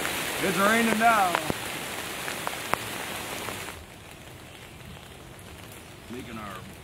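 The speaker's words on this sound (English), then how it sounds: "It's raining now." Rain patters on a tent at a backpacking campsite on Indiana's Two Lakes Loop Trail in May, a soft steady hiss that drops quieter partway through, with a voice briefly heard at the start and again near the end.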